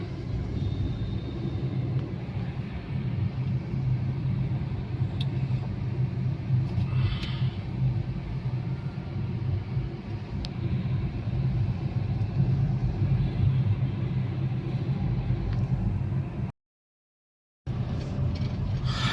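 Car driving on a road on the way back from Gurugram, a steady low rumble of engine and road noise heard from inside, continuous apart from a short dropout near the end.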